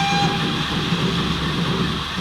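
A train in the Transport Fever 2 video game rumbles steadily along the track, a continuous close rolling drone with a faint whistle tone near the start, heard with no talk.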